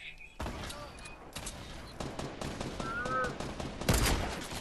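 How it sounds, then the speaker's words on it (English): Bursts of automatic gunfire in the video game Fortnite, a rapid string of shots that builds in intensity and ends in a louder volley, with game effect tones mixed in and a voice talking over it. "Oh, I'm getting shot at."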